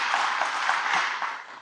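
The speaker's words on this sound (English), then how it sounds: "Yes, so worthy of applause as individuals." An audience applauds at a live local event, a brief, dense burst of many hands clapping at once that stays steady and then begins to taper off.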